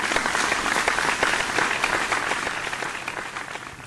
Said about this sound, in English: another big round of applause to them as they leave the stage.